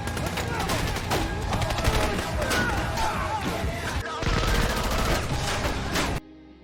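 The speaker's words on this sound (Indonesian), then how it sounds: "Dan akhirnya Max pun terlibat baku tembak dengan kelompok mafia ini." A film shootout with a mafia gang: dense, rapid gunfire with overlapping bursts and crashes continuing loudly for about six seconds before cutting off abruptly.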